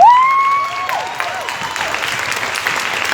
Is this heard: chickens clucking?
no